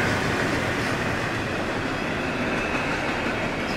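An extra-long freight train on the 206 rolls past after about two feet of snow, a loud, steady roar of wheels and cars filling the whole stretch without letup.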